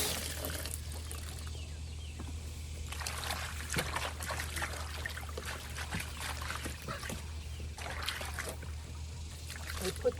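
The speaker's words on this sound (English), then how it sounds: "So I'm running the water." Water runs and trickles steadily into a cement mixer tray in a backyard chicken area, a soft continuous splashing under a low background hum, with a few faint clucks.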